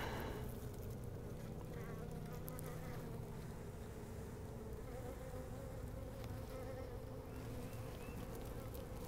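A dense, continuous buzz of many honey bees swarming close by during a hive split, steady and droning throughout with no speech.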